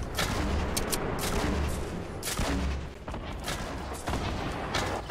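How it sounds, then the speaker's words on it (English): Rockets and gunfire in a Fortnite squad match, a dense, continuous barrage of booming shots and blasts with sharp bursts throughout, loud and close with no pauses. "I'm shooting rockets."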